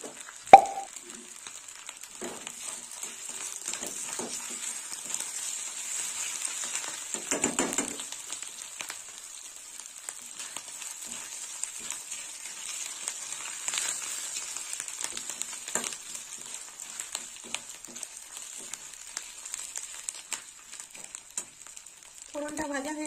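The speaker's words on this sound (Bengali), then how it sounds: "ফোড়নটা ভাজা হয়ে গেছে" Spice tempering fries in oil for a pigeon pea dal, a soft continuous sizzle with small pops and occasional stirring, fairly quiet and close.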